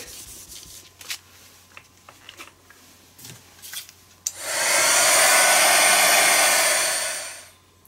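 A hair dryer blows close and loud onto a collage art journal page, a steady whooshing roar lasting a few seconds after some light handling and rustling of paper and objects.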